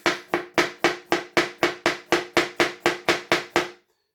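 An EUNA 8-inch chef knife slices through a tomato with about fourteen crisp, evenly spaced chops onto a board, each a short sharp tap with a brief fade, close and steady, no talking.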